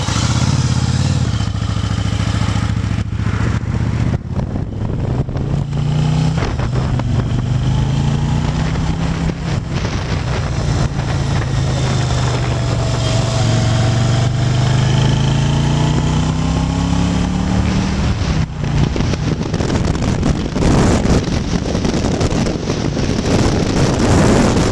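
A Yamaha Virago motorcycle with a leaky carburetor and low fuel rides along back roads, its engine droning loudly and steadily, rising and falling in pitch as it shifts, with heavy wind buffeting the microphone throughout.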